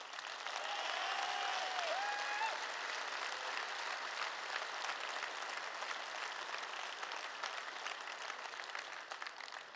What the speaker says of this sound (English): And I want to give them all an applause.